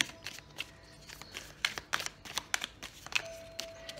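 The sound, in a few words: shuffling tarot cards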